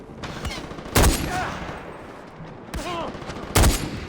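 SVD sniper rifle firing in Far Cry 4, three sharp, loud gunshots spaced out with echoing tails, over background game ambience and faint distant sounds.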